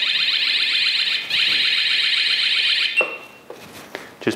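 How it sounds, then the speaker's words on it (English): A Coocase motorcycle topcase alarm goes off with a loud, rapid electronic warbling siren that cuts out abruptly, followed by a few sharp clicks and handling knocks. "shakes your bike, the alarm goes off"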